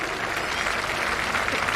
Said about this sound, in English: please give a huge round of applause for the Indian Naval Band